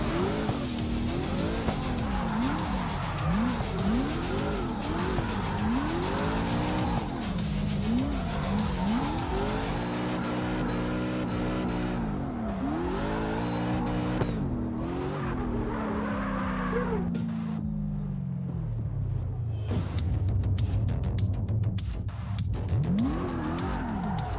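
In the CarX Street racing game, a drifting car howls with rising and falling engine revs and sustained tire squeal, loud and continuous with no talking, the revs sweeping up and down before a long falling pitch slide.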